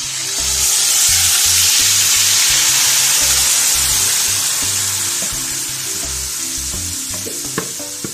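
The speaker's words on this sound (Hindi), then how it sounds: "अब मैं इसमें ये चिकन जो मैंने मैरिनेशन के लिए रखा था इसको डाल दूँगी।" Marinated chicken, coated in achari pickle spices, hits a hot pan and sets off a loud, continuous hiss of frying. The sizzle holds steady up close, with soft low thumps beneath and a few faint clicks toward the end.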